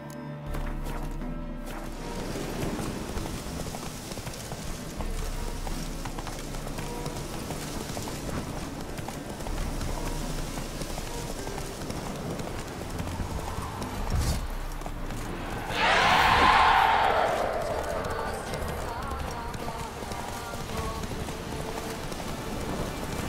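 Geralt's horse Roach gallops in The Witcher 3, a steady drumming of hooves under rain and ambient game sound, with a brief louder burst of splashing or rustling midway.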